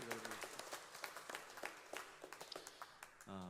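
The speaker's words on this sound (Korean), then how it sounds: "우리 주님께 감사와 찬송과 영광의 박수." Congregation applause at a Korean church Sunday worship service: a dense patter of many hands clapping, steady and moderately distant, that fades at the end as a voice begins.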